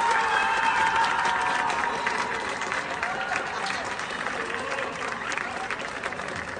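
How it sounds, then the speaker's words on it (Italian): Steady applause from a crowd at a film shoot goes on for several seconds at an even level, with some chatter mixed in. "È iniziato l'applauso lui e tutti quanti hanno un applauso."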